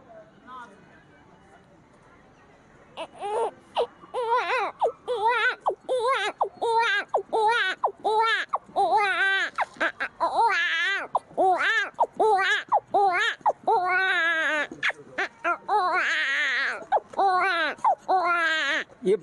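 A man imitates a newborn baby crying with his voice, a rapid run of short wailing cries that builds and continues steadily, loud and close, after a quiet start.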